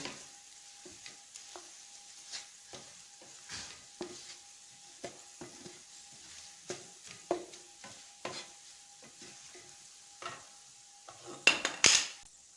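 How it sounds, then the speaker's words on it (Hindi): Spices with dry coriander powder being roasted in a pan for a curd fry dish: a soft, low sizzle with intermittent scraping and stirring clicks of a utensil against the pan, ending in a few louder clangs. "तकरीबन 1 मिनट के लिए हम इसको भुनाई कर लेंगे"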